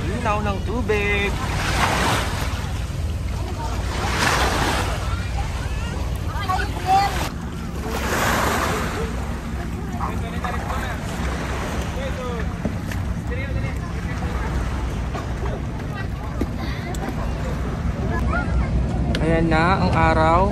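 Small boat out on open sea near Gigantes Island, Iloilo, with steady engine drone, splashing water and wind buffeting the microphone throughout, plus occasional faint voices aboard.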